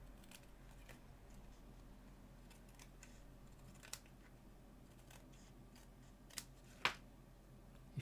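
Scissors snip cardstock and paper at a papercraft and cardmaking table, giving a few faint, sparse clicks and cuts against a quiet background hum, with one sharper snip standing out near the end.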